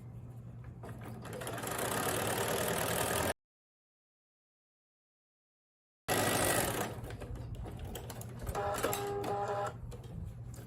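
A sewing machine stitching jellyroll fabric strips together runs in two steady whirring bursts separated by a silent gap, close and fairly loud, with no talking.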